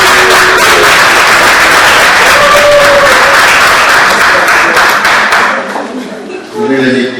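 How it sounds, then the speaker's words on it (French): Applause from wedding guests at a French civil and religious wedding ceremony, a dense sustained wash of many hands clapping that fades near the end as voices and a microphone come through. "Applaudissez s'il vous plaît."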